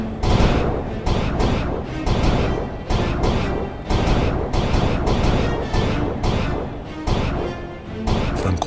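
Gunfire fired down from atop a castle in a Battle of Chapultepec battle scene: a loud, dense barrage of sharp shots and crashing impacts that keeps up in rapid, uneven volleys with no pause.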